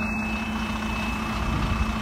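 East London bus idling at a bus stop, with a steady low diesel drone and a constant faint tonal whine, close and unchanging.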